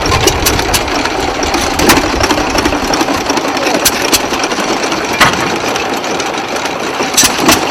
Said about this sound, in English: These engines are actually working.